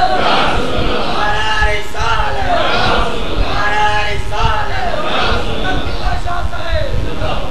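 A large gathering at an Islamic religious address chants slogans in loud, overlapping voices, rising and falling in repeated phrases with a dense crowd roar beneath.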